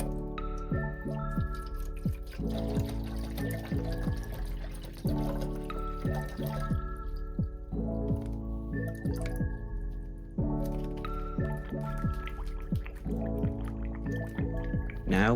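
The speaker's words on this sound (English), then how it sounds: "Let's add the mineral water next." Mineral water is poured into a small glass tank being set up for marimo moss balls, with drips and trickles in short bursts under gentle, plucky background music.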